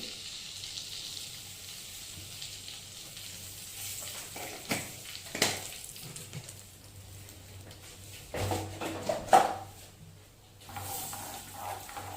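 Kasuri methi, dried fenugreek leaves, sizzles softly in hot oil in a pan while chole is cooked, a steady low frying hiss broken by a few brief louder crackles and stirring bumps.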